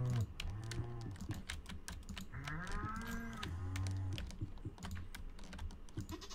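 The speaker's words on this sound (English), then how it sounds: "Hey, cows." Cows mooing in the farming video game Stardew Valley, several low drawn-out moos one after another, mixed with rapid clicking of computer keyboard typing throughout.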